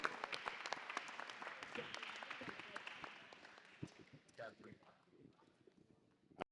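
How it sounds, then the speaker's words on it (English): An audience at a parent education event gives a moderator a round of applause. The clapping is dense and steady at first, then thins into scattered claps while people start talking. "Let's give her a special round of applause."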